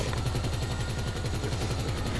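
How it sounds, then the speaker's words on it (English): Rapid automatic gunfire from a vehicle-mounted weapon in Grand Theft Auto V, a steady stream of loud repeated shots with a rumbling low engine drone underneath, continuous throughout with no talking. "Dude, this thing is just hauling ass and shooting a metric butt ton of bullets"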